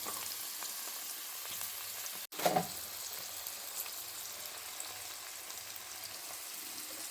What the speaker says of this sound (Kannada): ಪನ್ನೀರ್ ರೋಸ್ಟ್ ಮಾಡಿಕೊಂಡ್ರೆ ಕ್ರಿಸ್ಪಿಯಾಗಿ ಚೆನ್ನಾಗಿರುತ್ತೆ ಅಂತ